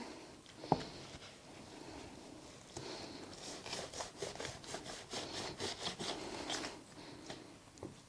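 Scraping of a mini soil block maker across wool pellet potting soil, a series of dry rhythmic rasping strokes close by after a single sharp knock, with no talking.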